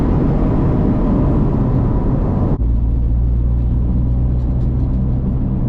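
A Honda Prelude with an H22 engine drives steadily, a continuous broadband road and engine rumble that drops briefly midway, as with a gear shift, then settles into a lower, steadier drone.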